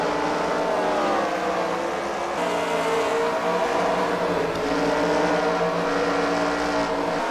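Race cars roaring around a track during a CWRL fight night round at The Freedom Factory, a dense, steady engine drone with shifting pitches from several cars running continuously.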